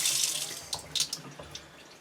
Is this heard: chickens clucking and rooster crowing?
no